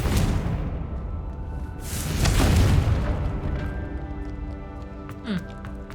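A Confringo blasting spell erupts in the Hogwarts Legacy video game, a loud booming explosion with a deep rumbling swell and whooshing debris, swelling again midway before tapering off.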